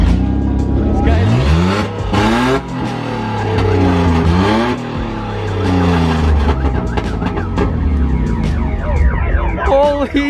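A car engine revs loudly and repeatedly up close, pitch sweeping up and down in surges, with people talking and shouting over it.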